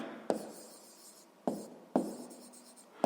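Marker or chalk taps and strokes on a board as math notes for a sixth-grade exercise are written out, four sharp contacts followed by short scratchy lines, close and fairly quiet with no voices.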